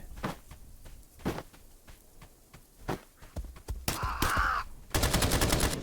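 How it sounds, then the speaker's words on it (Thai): Gunfire in the video game Escape from Duckov: scattered single shots over a quiet stretch, then a louder burst at about four seconds and a final rapid run of automatic fire. "มันมีเสียงยิงกันอยู่ให้คุณผู้ชม"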